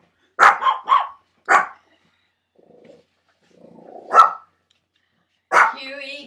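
A pet dog barks in short close bursts, with a brief low growl between them, amid a noisy home movie scene with people talking nearby.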